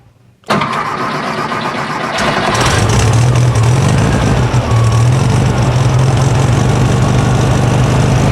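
A 1973 VW Thing engine cranks briefly, catches and fires up loud and close, then settles into a steady, slightly uneven idle that runs on to the end.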